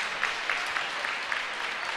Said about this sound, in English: And she gets a warm round of applause by the Wildwood faithful